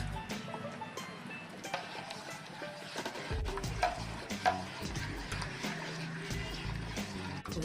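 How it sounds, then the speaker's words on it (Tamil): Thickening aloe vera soap mixture is worked with continuous stirring, giving a busy wet scraping and gloopy churning that runs steadily throughout, close up and with no voices. "இது கிண்டிக்கிட்டே தான் இருக்கணும்."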